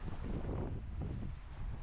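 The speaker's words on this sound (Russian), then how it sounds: "Ветер дует." Cold late-November wind blows outdoors by the water on a snowy morning: a steady, full rush of gusting wind buffets the microphone throughout, with no voices.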